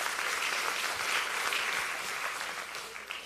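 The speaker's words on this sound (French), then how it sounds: "on peut les applaudir quand même." Audience applause for startup pitch teams at a startup competition quarterfinal, a dense, steady roar of clapping that holds for several seconds and then slowly fades near the end.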